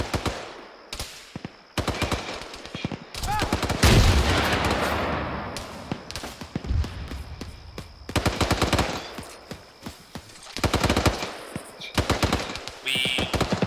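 Gunfire and a rocket launch in the Squad military video game: repeated bursts of automatic fire and single shots in dense clusters, with a heavy boom and lingering rumble in the middle, loud and close throughout.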